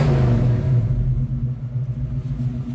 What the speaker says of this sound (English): Give it a little blip of the throttle